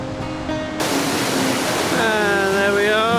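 A waterfall on a river in Nova Scotia roars with loud, steady broadband rushing that swells as it comes nearer, while a voice talks over it.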